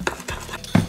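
A spoon scrapes and clinks against a bowl or pan while stirring brown sugar, sweet chilli sauce and store-bought barbecue sauce into a glaze for rolled meatloaf, in a few short, close strokes.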